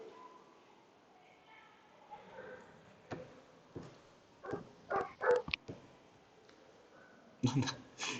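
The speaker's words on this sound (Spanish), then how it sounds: "suena un perro" A dog barks a few times in the background during a probability review lesson, faint and distant, with short sharp yips standing out over a quiet room and soft voices.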